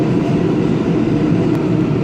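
A New York City subway train rolls along the track with a dense, loud, steady rumble and rattle of the cars, heard up close from inside without any talking.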